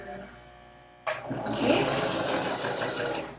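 A sewing machine starts up partway through and runs steadily, stitching a seam on a fabric face mask close and fairly loud, while a person talks over the motor.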